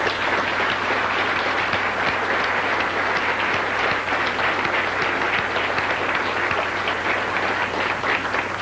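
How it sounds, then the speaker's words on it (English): A banquet crowd applauds steadily for the full stretch, a dense, even wash of many hands clapping in a room, with no pauses or voices rising above it. "Please give these ladies a round of applause."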